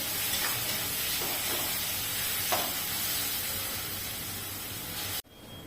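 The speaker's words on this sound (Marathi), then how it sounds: "मग होतं परतून घेऊ आता टोमॅटो" Chopped tomatoes sautéing in a hot pan for methi matar malai, giving a continuous dense sizzle and hiss with faint stirring scrapes, close and steady until an abrupt cutoff near the end.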